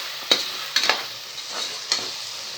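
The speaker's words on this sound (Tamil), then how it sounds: "இப்போ காய்கறிலாம் வதங்கி எண்ணெய் வெளியே வருது" Vegetables for a vegetable biryani fry in oil, giving a soft hiss broken by a few sharp stirring scrapes and clatters spaced across a couple of seconds.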